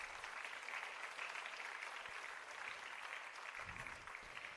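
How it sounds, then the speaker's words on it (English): An audience applauds steadily after a Bharatanatyam arangetram dance performance, a dense, continuous patter of clapping that holds at an even level for several seconds without speech. "Can we give a loud round of applause for that?"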